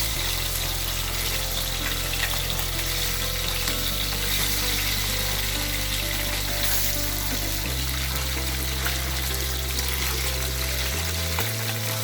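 Shing (stinging catfish) pieces frying in oil in a pan for a restaurant-style bhuna, a loud steady sizzle with faint stirring and scraping, close by and continuous, no voices.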